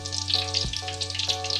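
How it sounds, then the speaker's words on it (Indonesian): Beef lung sizzling and frying in hot oil for Padang-style fried lung, a steady close crackle with bursts of spattering, no voices. "kita goreng sampai benar-benar warnanya itu agak kehitam-hitam cepat ya teman-teman, biar rasanya itu benar-benar crispy"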